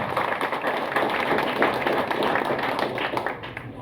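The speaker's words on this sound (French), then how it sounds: "demander un applaudissement pour visionnaires ça, pour initiateurs ça" Crowd clapping at a political party's tenth-anniversary celebration, a steady moderate wash of hands that runs the whole stretch, somewhat distant and slightly uneven.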